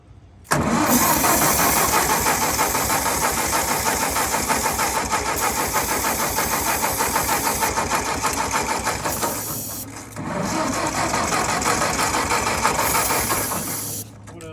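An old Ford 600 tractor, not run in years, cranks and fires up, then runs with a rapid, loud chugging rhythm that dips briefly near the end before picking up again.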